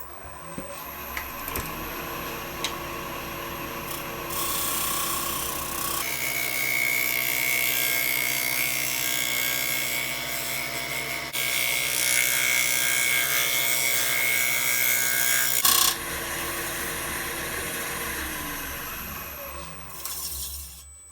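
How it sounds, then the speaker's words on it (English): A 40/40 bowl gouge takes a very light cut on a wooden bowl spinning on a lathe, removing epoxy. A steady whirring machine hum runs throughout, shifting in tone a few times, with faint ticks and no talking. "I'm going to take a super light cut with the 40/40 gouge and try to remove just the epoxy"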